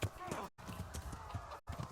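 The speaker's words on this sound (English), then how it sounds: "mount the horse" Horse hooves in the video game Kingdom Come: Deliverance clip-clop in a steady trotting rhythm, briefly cut by two short silences, with a voice talking over the top.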